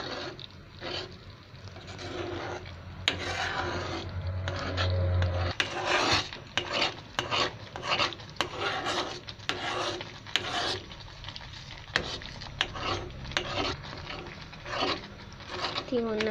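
A wooden spoon scrapes and stirs thickening homemade wood apple jam in a pot, a steady rasping rub with irregular strokes against the pot, close and fairly loud, with occasional talk over it.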